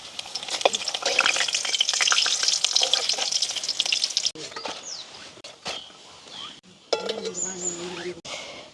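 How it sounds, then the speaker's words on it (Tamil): Appalam and dried chillies fry in hot oil, a busy crackling sizzle that is loudest at first, then breaks into quieter bursts with stirring clatter and faint chirps in the background. "இப்போ வந்து எண்ணெய் கொதிச்சிட்டு அப்பளம் மிளகாய் பொரிச்சிட்டு இதுக்குள்ளே வந்து தாளிப்பை செய்யலாம்."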